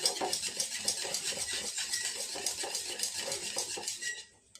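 A spoon mixes mango puree into yogurt in a bowl, making a brisk, continuous run of light scraping and clinking strokes that fades out at the end.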